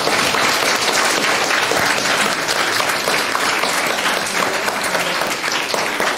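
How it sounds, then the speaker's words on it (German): Dense, continuous clapping fills the hall as the audience applauds a team's final presentation at a youth hackathon in Hamburg. "nochmal einen tollen Applaus für Political Block"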